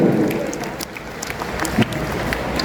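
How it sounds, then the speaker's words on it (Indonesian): Audience at a health talk on positive thinking for healthy ageing gives brief scattered applause, moderately loud at first then thinning into patters under room noise. "Tepuk tangan."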